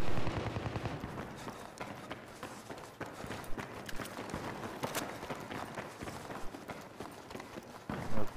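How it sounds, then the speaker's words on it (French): Battlefield 3 PC gunfire, a dense stretch of rapid automatic shots and sharp cracks, close and loud, with irregular bursts running throughout and a heavier thump near the end. "ça tire par là-bas"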